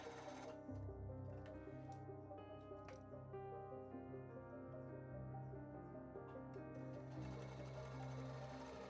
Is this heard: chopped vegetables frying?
no